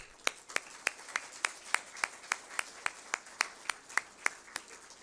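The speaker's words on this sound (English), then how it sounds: "I would like to give one big round of applause for all of the students" Applause for students signing letters of intent at a technical college signing-day event: a steady, evenly spaced beat of about fifteen sharp claps, fairly close and moderately loud, with a faint murmur beneath.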